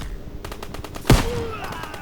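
Machine gun fire in a Normandy landing video game, a rapid burst of shots with one loud close blast and a brief whistling tone after it, over steady background noise.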